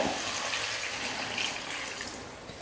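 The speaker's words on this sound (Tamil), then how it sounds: "இப்போ குழம்புக்கு தேவையான அளவுக்கு தண்ணி சேர்த்துக்கிறேன்" Steady rushing of water pouring continuously into a raw mango curry, a close, even gush with no speech.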